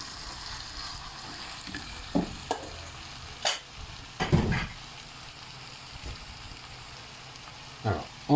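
Aubergines frying in a pan for caviar d'aubergines, a soft low sizzle with a few scattered stirring knocks and scrapes, fairly quiet and close, no talk.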